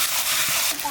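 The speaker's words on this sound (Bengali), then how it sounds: "রসুনটা একটু ভেজে নিয়েছি, এবার আদা বাটাটা দিয়ে দেবো।" Ginger paste hitting garlic already frying in a pan, giving a brief, bright, steady sizzle and hiss that fills the whole moment at close range.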